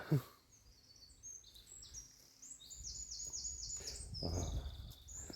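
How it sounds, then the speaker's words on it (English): Several birds sing and chirp in quick repeated phrases, fairly distant, over a soft outdoor background by a field on an English country lane, with a brief low voice near the end. "Lovely sound of birds singing."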